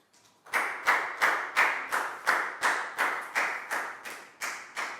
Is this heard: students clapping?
yes